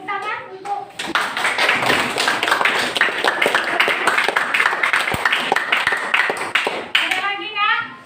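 A school class claps together in a classroom. A burst of loud, sharp, somewhat uneven hand claps runs for several seconds, with children's voices talking just before and just after it.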